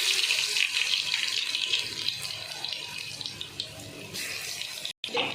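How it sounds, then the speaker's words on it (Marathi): Mustard seeds and cumin sizzle in hot oil for a dal khichdi tadka, giving a loud, steady frying hiss that runs throughout and cuts out briefly near the end. "आता त्याच्यामध्ये मी मोहरी टाकून घेणार आहे, जिरं टाकून घ्यायचं"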